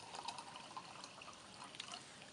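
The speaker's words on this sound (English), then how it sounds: "we're going to add 300 milliliters of this to the first beaker." A carbonated drink being poured into a beaker for a lab experiment, a faint, continuous trickle of liquid with light fizzing ticks and no talk.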